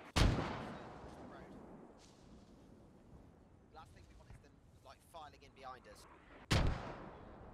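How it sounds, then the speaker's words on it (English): Two heavy booms of mortar shells bursting in the video game Post Scriptum, one at the start and another near the end, close and loud, with scattered voices and radio chatter in between. "as Reed gets hit by a mortar there"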